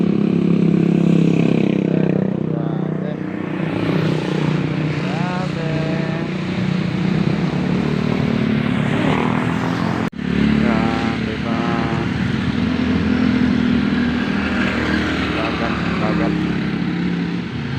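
A motorcycle engine runs loudly and continuously nearby, rising and falling with revs over a steady rumble and occasional jolts.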